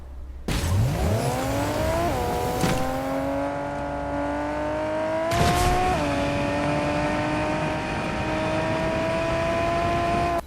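A Nissan JDM car driving in the video game Fortnite, its engine revving up, then holding a steady, loud drone that dips briefly and settles again, heard on its own without talk.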